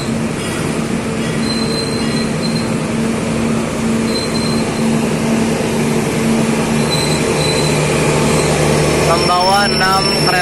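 Passenger train hauling six economy-class coaches rolling past in Indonesia: a loud, constant rumble with sustained wheel squeal and faint clicking, a voice faintly present underneath.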